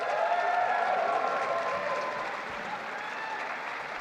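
A crowd at an event honouring Canada's Olympic athletes applauds to welcome Prime Minister Justin Trudeau, sustained clapping from many hands that fades slightly toward the end.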